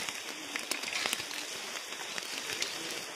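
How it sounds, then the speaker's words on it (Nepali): Rain, mixed with hail, patters steadily and close on a Nepali hillside on the way to Phulchowki ridge, a dense hiss with scattered sharp drops and no speech. "पानी पर्यो"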